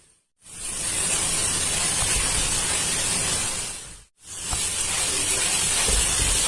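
Jackfruit pieces deep frying in hot oil give off a steady, loud broadband hiss and crackle that runs almost without a break, cutting out briefly near the start and once more partway through.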